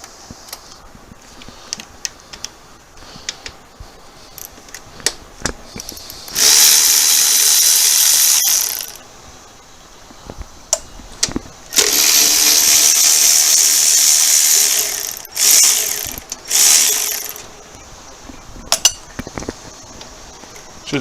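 Engine bolts of 12 mm are backed out on a 2005 Honda Accord: long whirring bursts of a powered ratchet alternate with metallic clinks and tool handling, close up.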